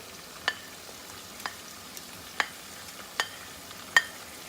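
Yogurt goes into chicken frying in a pan for white chicken biryani, a soft quiet sizzle with about six distinct light taps or clicks of a spoon at irregular intervals, no talk.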